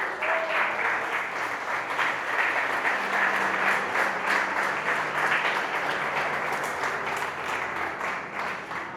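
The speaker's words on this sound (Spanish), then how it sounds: "Denle un aplauso a Jesús." Members of a church congregation applaud during a Spanish-language sermon. The clapping is sustained, dense and steady, with a few whoops over it, and it stays at an even, lively level throughout.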